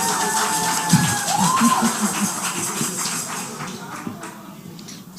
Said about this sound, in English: All right, so give a round of applause to your people.